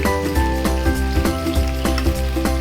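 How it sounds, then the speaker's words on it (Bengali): Chicken pieces frying in a pan, a loud, steady sizzle close by with regular clicks and scrapes from stirring or turning the meat, and a low hum underneath. "এক পিস করে দেখেন আমাদের মাংস ভাজা।"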